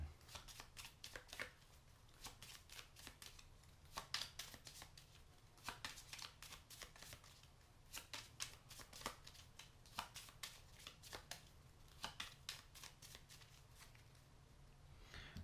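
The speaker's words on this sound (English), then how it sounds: "So we'll give this a shuffle." A deck of game cards is riffled and shuffled repeatedly, giving bursts of crisp flapping clicks in an irregular rhythm, close and fairly quiet, with no talk.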